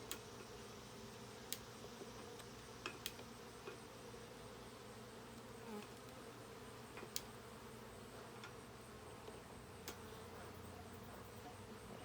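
Honey bees hum steadily and faintly at a hive in a continuous drone, with occasional small clicks and knocks, no voices present.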